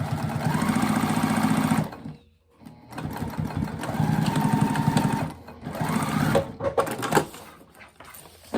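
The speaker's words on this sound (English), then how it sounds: "you can flip it and you'll stitch starting from that center area down and repeat the process over on this end" A sewing machine stitching a zipper seam on a fabric retreat bag, close rapid mechanical chattering in bursts that stop briefly and restart, with a short pause in the middle.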